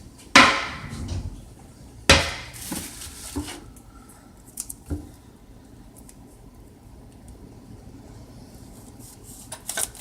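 A knife chops through sausage on a board for biscuits and gravy, with a few sharp close knocks early and then sparse, fainter taps over a quiet background.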